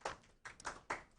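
A few soft hand claps from a small group at a Walt Disney World news show, three quick quiet bursts close by with no talking.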